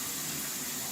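A steady, dense hiss of shower water runs without a break, fairly faint, for under a second.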